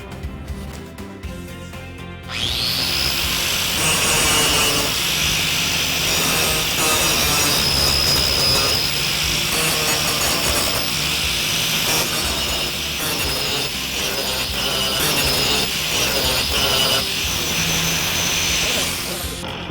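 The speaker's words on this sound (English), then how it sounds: "we're going to grind off all the little nail heads that are sticking out through the back" A grinder taking off protruding nail heads on the back of a wooden bear cutout, a loud, continuous harsh grinding roar that starts abruptly after a short quiet lead-in and holds steady to the end.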